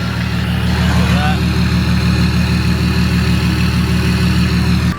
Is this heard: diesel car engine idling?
yes